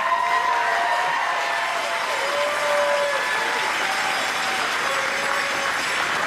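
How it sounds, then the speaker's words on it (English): A big round of applause from an audience at an evening show's winner announcements, steady and full, with some cheering and whistles mixed in. "So let's give him another big round of applause."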